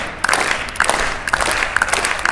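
A street crowd in London claps for a performer sitting on a bed of nails, a dense steady patter of many hands with a few sharper claps standing out, fairly close and continuous throughout.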